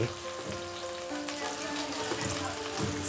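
Three medium onions frying in a pan with chilies for street-style egg rice, a steady close crackling sizzle with a few faint stirring scrapes.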